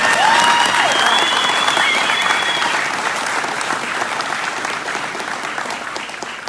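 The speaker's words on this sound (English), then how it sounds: "Hey, let's do a round of applause for the finalists." A room full of coworkers at a company safety recognition program applauds the finalists, a loud, dense burst of clapping that starts strong and gradually tapers off, with a whistle cutting through early on.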